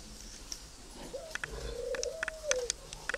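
Young spotted doves coo in low, soft rising tones, with a few brief higher chirps scattered through a steady, gentle background.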